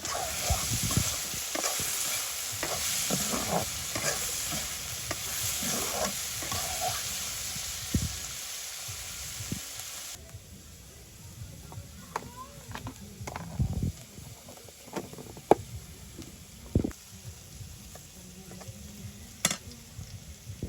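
Potatoes and long beans sizzle and fry steadily in a pan in a village kitchen, with repeated stirring scrapes and clinks over a continuous hiss that drops somewhat in level partway through.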